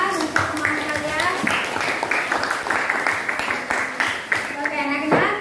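Children in a classroom clap for a classmate, a dense patter of hands continuing for several seconds, mixed with lively children's voices calling out over the applause.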